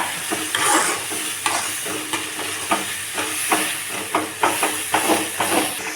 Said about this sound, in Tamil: போட்டு கொஞ்சம் பச்சை வாசனை போகிற வரைக்கும் கொஞ்சம் வதக்கி விடுங்க